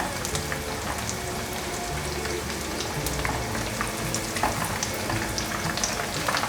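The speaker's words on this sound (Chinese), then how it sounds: "开中大火炸" Vegan tofu skin rolls wrapped around burdock deep-frying over medium-high heat, a steady dense crackling sizzle of hot oil that runs continuously and fairly loud throughout, with no talking.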